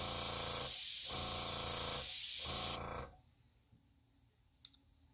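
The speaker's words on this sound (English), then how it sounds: "Now I'm taking my airbrush" An airbrush sprays alcohol ink in loud, close bursts of steady hiss, broken by two short pauses, then cuts off into near silence with a faint click.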